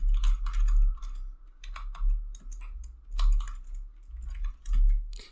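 Rapid clicking keystrokes on a computer keyboard as a command is typed, in irregular bursts with brief pauses, close and fairly quiet with no talking.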